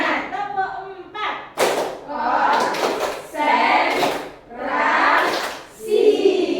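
Kindergarten children clap through a rhythmic group clapping routine in a classroom, with sharp bursts of claps alternating with loud chanting voices and an adult speaking.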